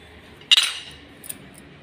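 A metal sewing machine plate being refitted with screws, heard as a sharp metallic clink followed by a fainter tap a moment later, close and clear against a quiet background.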